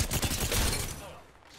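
Rapid gunfire in a video game, a dense burst of repeated shots that fades out toward the end.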